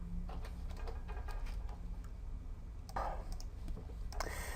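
A password being typed on a computer keyboard comes through as quiet, irregular key clicks and taps, close and faint, over a low steady background hum.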